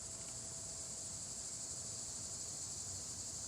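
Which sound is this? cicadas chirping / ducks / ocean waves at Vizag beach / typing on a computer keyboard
cicadas chirping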